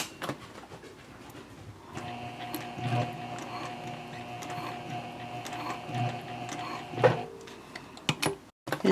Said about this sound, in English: I'm going to sew across the bottom fold there